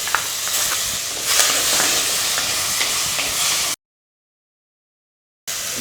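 Tomatoes go into hot tempering in a pan during sambar cooking, giving a steady close sizzle and hiss that cuts off abruptly to silence before briefly resuming.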